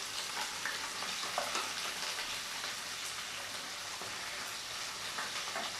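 Onions sizzle steadily in hot oil in a pan, added to a tempering for rasam, a dense, even crackle that carries on without pause and with no talking.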